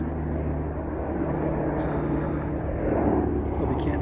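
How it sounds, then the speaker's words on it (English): A steady low helicopter engine drone with rotor-like thrum passes overhead during a wildfire, moderately loud and continuous, with no talking. "And here comes the helicopter again."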